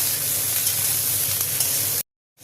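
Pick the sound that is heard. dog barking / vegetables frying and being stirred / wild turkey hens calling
vegetables frying and being stirred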